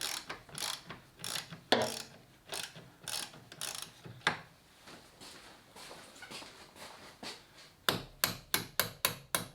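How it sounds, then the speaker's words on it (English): A ratchet is worked on a bolt on a BMW 1150GS motorcycle, giving close, sharp clicking strokes in uneven bursts that end in a quick run of rapid clicks. "So let me just take the bolt off."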